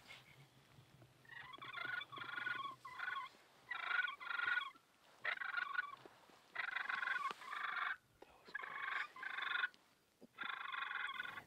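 Wild turkeys gobble repeatedly in rapid bursts during a spring hunt, one rolling call after another with short pauses between them, moderately close and clear.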